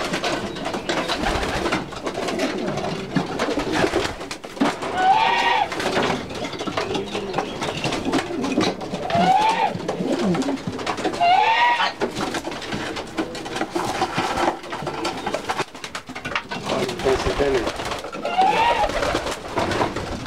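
Grenadino pigeons coo repeatedly in a breeder's pigeon loft, soft rolling coos recurring every few seconds against a busy background of rustling and murmuring.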